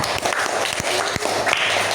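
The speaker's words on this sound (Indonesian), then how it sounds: "Tepuk tangan untuk Sela." Children in a classroom clap their hands together in a dense, continuous burst of many small hands, loud and close, with no talking over it.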